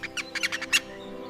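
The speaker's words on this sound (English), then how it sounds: "The superb lyrebird of Australia is, without question, the greatest vocal mimic on Earth." An Australian superb lyrebird singing, a quick series of about seven bright, close chirped notes packed into under a second, then a fading tail.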